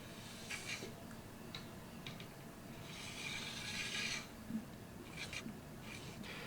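A single bevel knife blade being sharpened to break off the burr, faint quiet scraping strokes of steel on an abrasive, short rasps scattered among a couple of longer passes, close and soft with no talk.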